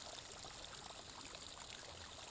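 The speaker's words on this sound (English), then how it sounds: "So here is water running out of this cave." Water running out of a cave amid lush vegetation: a soft, continuous trickling stream with a steady burbling texture, faint and even throughout, with no voices.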